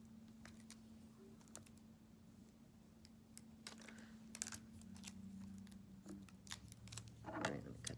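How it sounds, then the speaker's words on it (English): Scissors snip through a piece of paper in close, quiet cuts, several short crisp snips scattered over a low steady background hum. "let me cut this piece"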